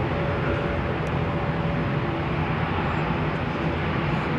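Airliner taking off at London Heathrow Airport, heard as a steady, loud broadband jet roar that holds unbroken throughout, with no voices.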